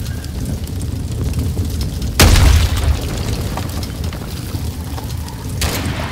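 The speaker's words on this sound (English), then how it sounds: "stop shelling me" A deep artillery shell explosion booms in a wave-based video game, one loud blast rolling out over a steady rumbling background, with a second sharper burst near the end.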